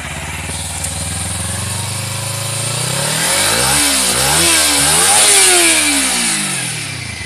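A Kawasaki Ninja 300 motorcycle's exhaust rises from idle into loud revving, the engine note climbing and falling in repeated throttle blips, close and dominant throughout.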